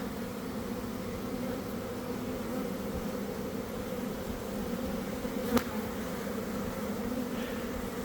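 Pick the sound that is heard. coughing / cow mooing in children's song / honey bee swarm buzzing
honey bee swarm buzzing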